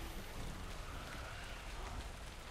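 Steady dynamic-weather rain in Guild Wars 2: Path of Fire, a dense, even hiss of falling rain filling the whole moment at constant loudness, with no talk over it.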